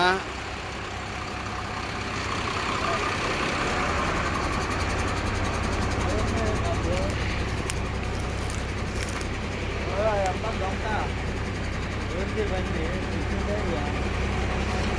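A 16-tyre tanker truck's engine rumbles steadily and fairly close, a low continuous drone that holds throughout while someone talks over it.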